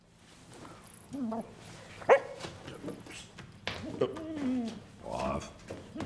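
A dog barks and whimpers, with short yips and whines breaking through amid nearby conversation.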